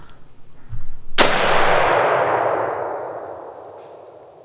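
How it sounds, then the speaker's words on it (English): A rifle shot fired while deer hunting on public land in Wisconsin gun season, with the bullet striking branches: a single loud, sharp crack followed by a long, fading rumble through the woods. "it's pretty funny to see how many branches my bullet bounces off of"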